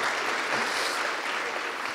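A conference audience claps steadily after a talk opens, dense broadband applause filling the whole moment at an even level with no voices on top.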